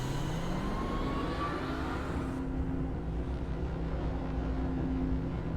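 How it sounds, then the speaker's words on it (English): A steady mechanical exhaust drone in the video game Myst, a continuous low rumble with rising engine-like tones that shifts midway, moderately quiet and unbroken, with no talking. "Exhaust sound."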